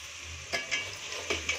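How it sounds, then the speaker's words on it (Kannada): Vegetables, dry grated coconut and coriander leaves fry in oil in a pan, a soft sizzle broken by several sharp scrapes of stirring heard up close. "ಈಗ ನೋಡಿ, ಎಣ್ಣೆಯಲ್ಲಿ ತರಕಾರಿ, ಸೊಪ್ಪು ಇವೆಲ್ಲ ಫ್ರೈ ಆಗಬೇಕು"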